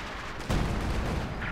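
Artillery strike in the Company of Heroes 2 strategy game, a sudden loud boom that cuts in under a second and rolls on as a dense, noisy rumble.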